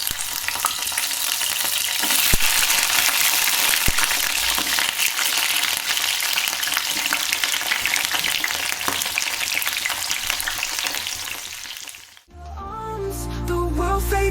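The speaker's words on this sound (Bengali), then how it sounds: "ততক্ষণে ফুলকপিটা ভেজে নিই" Cauliflower frying in a pan gives a loud, steady sizzle with occasional stirring scrapes for about twelve seconds, then the sound abruptly gives way to music.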